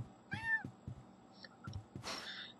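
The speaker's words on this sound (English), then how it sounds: "Did you hear that little meow?" A cat in the video game The Sims 3 gives a short, clear meow, followed by a brighter, rougher cry about a second and a half later, with soft game clicks and ticks in between.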